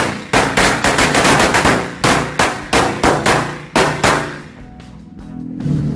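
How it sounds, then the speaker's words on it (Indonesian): A loud, rapid string of match-type firecracker bangs cracking in quick bursts, pausing briefly between volleys, then trailing off into fainter pops and hiss. "selanjutnya kita nyalakan mercon korek Corsairs KTP yang seperti ini."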